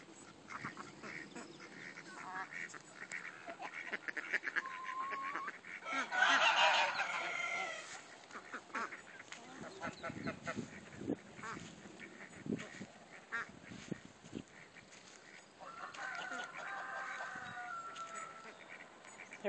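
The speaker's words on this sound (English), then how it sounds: "And the goose hatched ducks." A goose with her newly hatched ducklings, one or two days old, gives scattered soft honks and calls, with a louder burst of honking partway through and more calls near the end, all fairly close.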